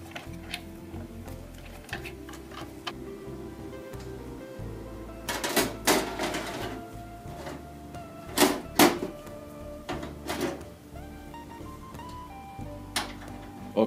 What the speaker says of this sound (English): Now it's time to place the motherboard back in and connect all the plugs